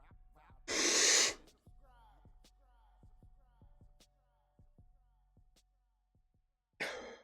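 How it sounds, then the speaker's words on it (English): A person coughs hard after holding in a big hit of smoke: one loud, harsh burst, quiet breathing and small clicks, then a second cough at the end. "Hold it in until you cough real bad."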